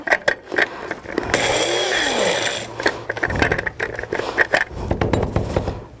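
Food processor pulsing as it chops homemade edible glitter, a loud whirring burst lasting about a second and a half, followed by clattering and knocking of the bowl and contents in short bursts.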